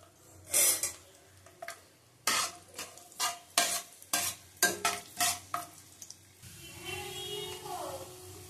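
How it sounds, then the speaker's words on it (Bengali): Whole spices and garlic fry in oil for a sweet-sour-spicy mango pickle, with a quick series of loud, close spoon scrapes against the pan, then a softer continuous sizzle. "ভালো করে ভেজে নেবো ফোড়নগুলি। রসুন দিলাম।"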